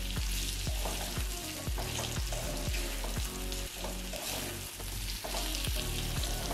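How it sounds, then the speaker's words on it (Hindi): Potato chips sabzi with spices and coriander-cumin powder is stirred in a pan, regular scraping strokes about twice a second over a low, continuous sizzle, close and alone. "सब मसाले साथ में मिक्स कर लीजिए"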